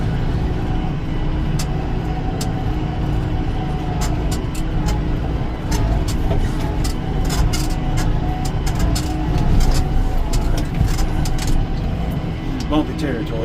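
A farm vehicle hauling a hay bale out to cows drives over bumpy ground, its engine rumbling steadily and loud throughout with rattling clanks and a gear change down to third, without talk.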